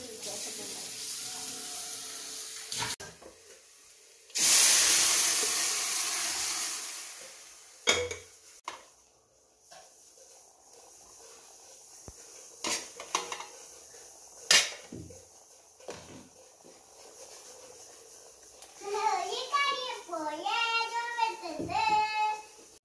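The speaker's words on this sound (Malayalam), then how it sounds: "സ്കൂൾ പോവാണ്ട് ഇവിടെ പാത്രം കഴുകാൻ നിന്നതാ." Dishes, pots and pans being washed in a home sink, with clattering knocks and a burst of running tap water. Scattered clinks follow, and voices talk near the end.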